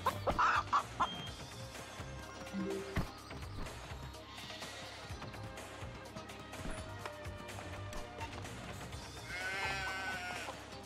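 Sheep bleating repeatedly on a muddy farm, fairly quiet, mixed with other animal calls that sound like clucking fowl.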